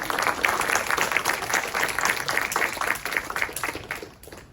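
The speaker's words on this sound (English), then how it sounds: "Give an applause." An audience at a Shark Tank–style entrepreneur pitch event at Santa Monica College applauds: dense, lively clapping from a crowd that fades gradually toward the end.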